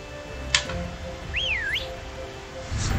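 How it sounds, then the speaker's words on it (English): A clear rising and falling in-game whistle in Pokemon Sword, played to wake Registeel, the giant of steel. It sounds once, brief and distinct, between a click and a soft ambient drone. "Now, I believe this is where you whistle."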